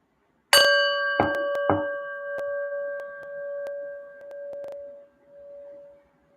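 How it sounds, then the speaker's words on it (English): A meditation bell is struck a few times in quick succession, then its clear metallic tone rings out and slowly fades over several seconds in a quiet room. "Let us ring a bell and just quiet our minds"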